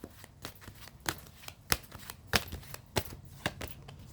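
Tarot cards are shuffled and drawn in a rapid, irregular run of crisp card flicks and slaps, close and fairly quiet, with no talking.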